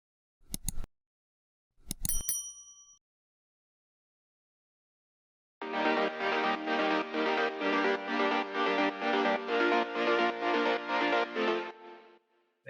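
A processed saw-wave synth layer carrying the chords of an emotional progressive house track, heard as a long run of rapid evenly pulsing bright chord stabs, preceded by two short sharp percussive hits and silence, close and without voices.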